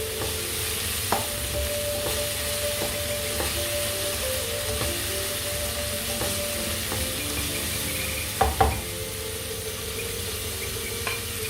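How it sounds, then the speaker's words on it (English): Vegetables and seasonings for a vegetarian Chennai-style pasta are stir-fried in a pan on really high heat: a constant loud sizzle with occasional sharp clinks of a utensil against the pan, and no talking. "This is on really high heat. You have to, just stir fry and add everything else after this."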